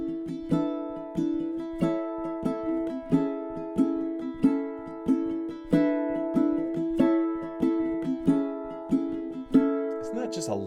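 A ukulele strums a chord progression using the thumb, finger pads and muted ghost notes. It is a moderate, evenly pulsing pattern of distinct strokes, played close up and alone until a last chord fades.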